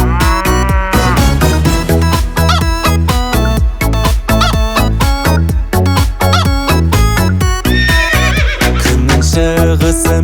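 Cow moos and horse neighs imitated as part of an upbeat children's song about farm animals, the animal calls set against loud, steady, rhythmic music throughout.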